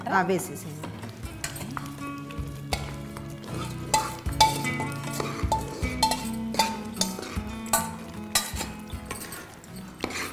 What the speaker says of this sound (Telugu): ఇప్పుడు ఈ పోపు అంతా ఇందులో వేసేసి